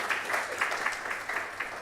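Crowd applause at a building inauguration ceremony fills the room, a steady wash of many hands clapping at moderate distance, with a few sharper claps standing out.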